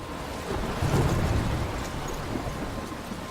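A thunderstorm in the video game Life Is Strange: steady heavy rain hiss with a low rolling rumble of thunder swelling near the start, continuous and fairly loud, with no voices.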